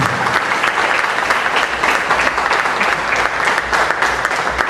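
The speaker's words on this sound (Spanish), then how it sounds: "Un aplauso al Señor, por favor." Church congregation applauding during a service, a loud, dense round of clapping from many hands that stays steady and close for several seconds without speech.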